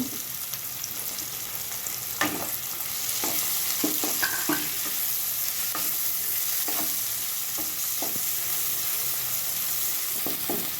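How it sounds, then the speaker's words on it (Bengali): Chopped tomatoes fry with softened onions in a pan for a chicken chop, a constant sizzle punctuated by frequent scraping stirs of a spatula. "এবার টমেটো কুচিগুলো ভেজে নেব।"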